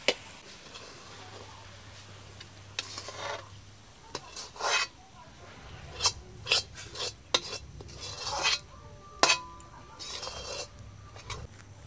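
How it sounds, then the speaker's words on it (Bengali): A spoon stirs and scrapes a laddu mixture in a pan. Close, irregular scraping strokes and light metallic clinks come in short bursts, with quieter pauses between. "ভালো করে মিশিয়ে নেব।"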